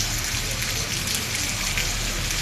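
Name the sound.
heavy rain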